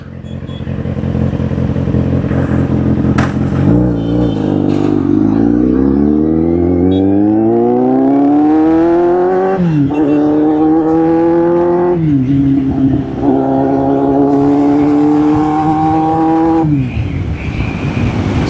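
A superbike engine revs hard and close, loud throughout, its pitch climbing steadily through several rising sweeps with brief drops between gear changes, ending on a sustained high whine.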